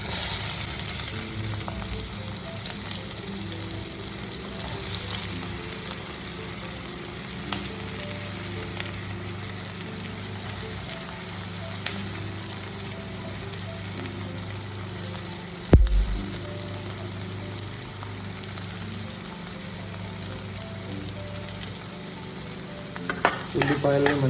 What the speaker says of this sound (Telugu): కొంచెం గ్యాస్ ఫ్లేమ్ అయితే ఇంక్రీజ్ చేసి ఈ ఎగ్స్ ఫ్రై చేసినటువంటి ఆయిల్లోనే మనం ఇప్పుడు ఆనియన్స్ అయితే వేసేద్దాం.